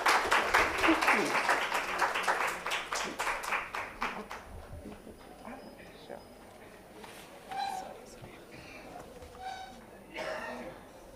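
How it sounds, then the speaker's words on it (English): Audience applause in a conference hall during a plenary session on sustainability education, a dense burst of many hands clapping that thins out after about four seconds, followed by scattered coughs and murmurs in the room. "have a thunderous round of applause"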